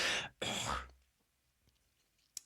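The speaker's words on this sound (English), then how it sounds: "I'm having trouble clearing my throat at the moment" A person clears their throat twice in quick, rough bursts, then near silence follows with a faint click at the end.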